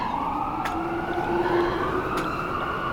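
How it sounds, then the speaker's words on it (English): A fire truck siren wails at a distance with a steady rising and falling tone over low road noise and faint background hum. "and there's the fire truck down there."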